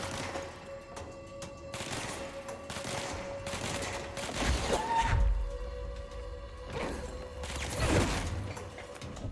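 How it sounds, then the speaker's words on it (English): Machine gun fire in the action game Control comes in several rattling bursts, separated by quieter gaps with mechanical game noises between them. "Oh, we got a machine gun now."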